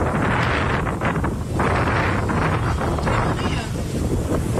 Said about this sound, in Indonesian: angin yang berhembus cukup kencang pada siang hari ini